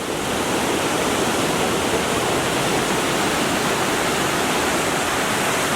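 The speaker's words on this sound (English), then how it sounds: "Big river." A big river flows through Verona, Italy, heard as a steady, loud, unbroken wash of rushing water, close and without voices.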